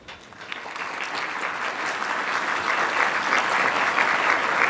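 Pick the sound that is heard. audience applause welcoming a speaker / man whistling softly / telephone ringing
audience applause welcoming a speaker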